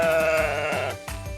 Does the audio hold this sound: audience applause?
no